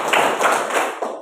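A short run of group hand claps in a school classroom, several distinct beats in a loose counted rhythm, close and fairly loud.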